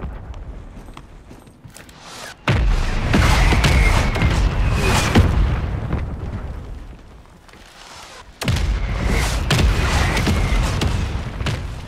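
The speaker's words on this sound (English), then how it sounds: "Hostile mortar strike near your position." Mortar strike explosions in Call of Duty Warzone on Rebirth Island: two heavy, sustained booming blasts, each starting with a sudden loud onset and rumbling on for several seconds, separated by a quieter lull.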